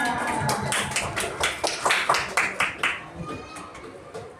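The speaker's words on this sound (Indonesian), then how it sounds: "Beri tepuk tangan dulu untuk semuanya" A class of Indonesian schoolchildren gives a round of hand claps for everyone after a sixth-grade science lesson on the planets, a short run of distinct, fairly rhythmic claps heard close with some background chatter.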